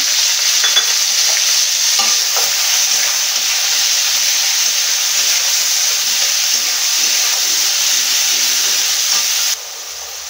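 Garam masala and sliced onions fry in hot oil in a pan for an achor chicken dish, a loud, continuous sizzle with scraping stir noises, dropping suddenly quieter near the end; no talking.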